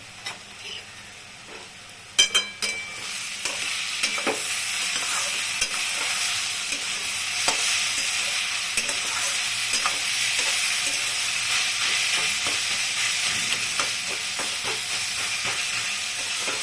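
Pointed gourd for a curry fried and pressed with the back of a spatula, a few sharp clanks of a lid or utensil at first, then a loud, steady sizzle with light intermittent scraping, close and unaccompanied by talk.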